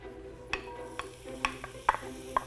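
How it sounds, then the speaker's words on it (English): Onions sauté in oil in a pan with a soft, steady sizzle, broken by several sharp clicks and scrapes of a utensil stirring against the pan, close by. "I'm just putting some oil in here and I'm going to saute some of these onions"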